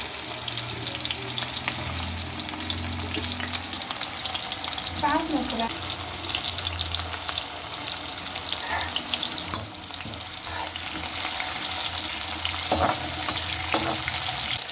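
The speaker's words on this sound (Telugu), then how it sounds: "ఎర్రగడ్డలు కొంచెం మెరూన్ రెడ్ కలర్ వచ్చేంతవరకు వేగని" Onions frying in hot oil with mustard seeds, a continuous loud sizzle with occasional stirring scrapes, close by.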